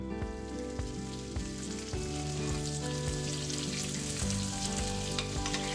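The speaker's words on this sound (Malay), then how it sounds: "Bilaskan steak dengan mentega cair seperti ini." Steak basted with melted butter sizzles and spits steadily in a hot pan, a dense continuous frying hiss heard close with a few scraping knocks and no talk.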